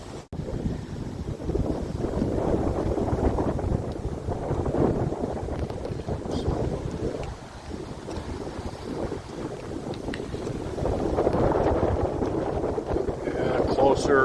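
Strong gusting wind near a Lake Michigan beach at Silver Beach in St. Joseph buffets the microphone with a constant low roar that swells and eases, with faint surf underneath.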